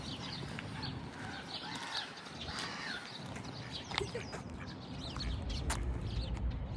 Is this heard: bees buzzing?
no